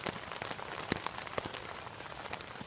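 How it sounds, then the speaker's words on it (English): Rain falls steadily outdoors at Frontenac Park in May with a soft, constant hiss, with occasional heavier drops pattering nearby, fairly quiet and without voices. "it's raining now."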